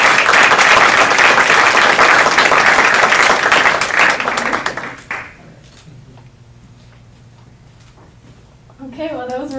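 Loud, dense applause from a homecoming engineering lecture audience fills the room for about five seconds, then fades abruptly to quiet room tone before a voice begins speaking near the end.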